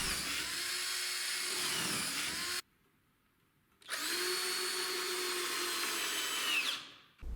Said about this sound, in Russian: и притягиваю саморезами